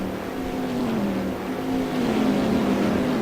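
Race cars in an endurance series field rolling past on track, a steady engine drone that swells slightly as the pack passes, heard from a distance.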